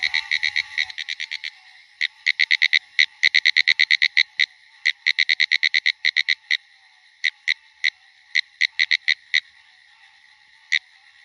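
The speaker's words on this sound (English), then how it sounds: "we got a Green frog and a PINEWOODS tree frog" A green frog and a pinewoods tree frog call alone: a rapid, rhythmic series of sharp clicking pulses, bursts of quick notes interspersed with single loud clicks, close and clear.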